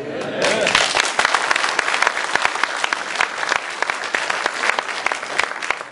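Audience at a lecture in South Korea clapping, a dense, lively burst of applause that starts quickly and carries on steadily from a large crowd in an indoor hall.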